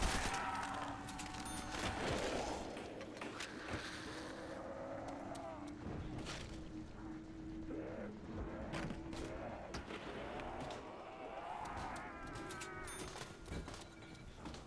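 Rapid gunfire in a zombie shooter game as the player holds a corner by the stairs, dense bursts of shots over a constant roar of engine-like game noise.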